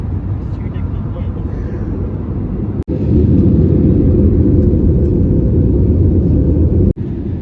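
Loud, steady engine roar and rumble inside a passenger airliner cabin as it lands in Dubai, with brief dips near three and seven seconds and faint voices beneath.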